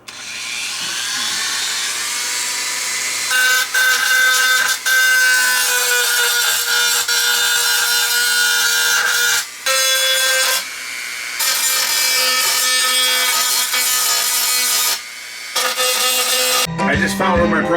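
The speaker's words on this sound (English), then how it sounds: "So I'm just going to take my Dremel and just kind of buff this up a bit." A Dremel rotary tool buffs rust off metal, producing a loud, continuous high-pitched grinding whine that shifts in pitch and briefly dips several times as the tool lifts and presses again.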